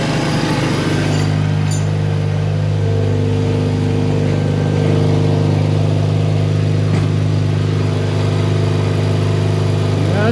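Rotary engine of a Mazda RX-7 FC3S idling steadily after a new AN hardline fuel line install, a loud, continuous close-up drone with strong low harmonics and a brief blip near the start, no talking.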